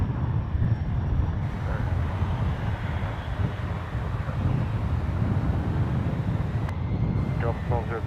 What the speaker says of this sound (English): heavy Airbus 350 over the bridge